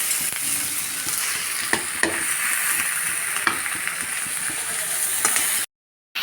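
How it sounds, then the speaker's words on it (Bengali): Helencha (hechi) greens sizzle steadily in a pan while being tossed and stirred with a spatula, giving a continuous loud frying hiss with scattered scraping knocks, then cutting off abruptly. "এই যে এভাবে নেড়ে চেড়ে দেবেন তাহলে শাকটা খুব সুন্দর ঝরঝরে হয়"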